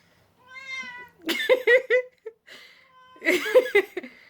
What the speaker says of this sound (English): My favorite feline, Lizzie. She's not too happy right now